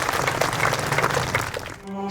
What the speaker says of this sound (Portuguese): Uma salva de palmas para Jesus, presente na Eucaristia.